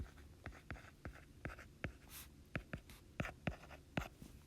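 Pen or pencil writing out a math equation by hand, a series of close, distinct scratchy strokes and taps in an uneven rhythm, heard alone without talk.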